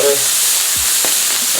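Brussels sprouts and butter fry on a Camp Chef FTG600 flat top griddle, producing a loud, steady broadband sizzle with a couple of short knocks or scrapes and no talking.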